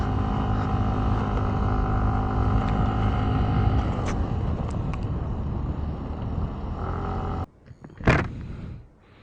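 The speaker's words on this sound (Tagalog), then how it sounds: "Ganda ng tunog ng makina." A Yamaha Mio Gravis scooter engine runs during a ride as a steady close hum mixed with rushing wind, then cuts abruptly near the end, followed by a brief loud gust.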